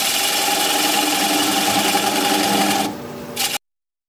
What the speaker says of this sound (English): Turn the speed up around 700 RPM and just start removing that tenon